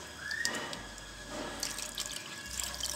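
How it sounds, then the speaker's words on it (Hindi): Water running from a tap into a pot of chana aloo curry to thin the gravy, a steady close pour with a soft splashing wash throughout. "अब हम इसमें ग्रेवी के लिए अपने हिसाब से करेंगे पानी ऐड"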